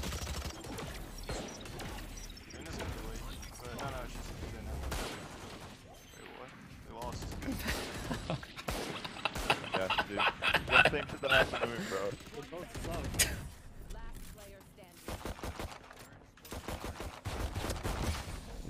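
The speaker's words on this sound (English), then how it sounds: "this guy's running and shooting the fucking RNG gun and kills me" Gunfire in the Valorant video game: bursts of rapid shots and mechanical clatter come and go over about eighteen seconds, moderately loud and mixed with a person talking.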